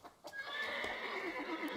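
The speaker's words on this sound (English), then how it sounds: "Horse," A horse in the survival video game Rust lets out one loud, shrill neigh that wavers for well over a second, with faint hoof clops underneath.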